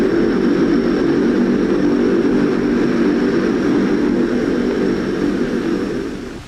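Lockheed C-130E military transport aircraft engines hold a loud, steady, close droning roar without a break, easing off slightly at the very end.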